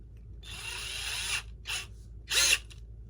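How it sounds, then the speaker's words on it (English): A cordless drill whirs in three bursts: one long run of about a second, then two short spurts after brief pauses. Each burst sounds close and clear against a quiet background. "let's see if my drill holds a charge"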